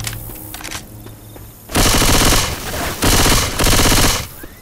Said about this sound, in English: Shooting zombies.